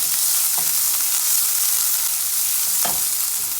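One whole chopped onion frying in oil in a pan for samosa filling, a loud continuous sizzle with a couple of brief stirring scrapes, no talking.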